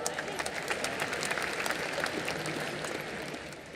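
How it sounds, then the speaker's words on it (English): Audience applause fills a large hall at the closing ceremony of the 53rd International Film Festival of India in Goa, a dense steady roar of clapping that fades slightly toward the end. "let's give a round of applause for Dr. Pramod Sawant."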